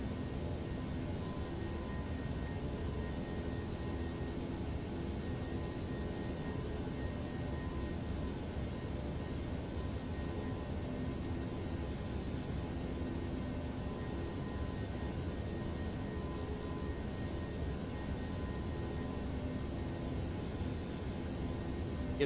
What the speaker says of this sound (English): Rotate. And we are off the ground. Gears coming up.